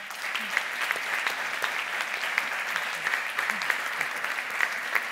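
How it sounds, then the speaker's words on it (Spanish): Applause from the audience at a film festival panel, a steady, moderately quiet spread of many hands clapping, continuous with small sharp peaks and no one speaking. "Un aplauso para todos y todas."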